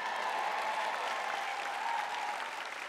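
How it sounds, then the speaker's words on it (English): A church congregation claps through a sermon, steady sustained applause from many hands filling the room at moderate volume, with no voices rising above it. "Did you notice how everybody clapped for the good part?"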